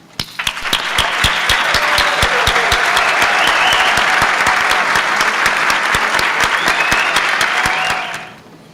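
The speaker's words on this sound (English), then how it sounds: "stand up so we can give you a great big round of applause." A large crowd claps steadily and loudly for several seconds, a dense sustained round of applause that tapers off at the end.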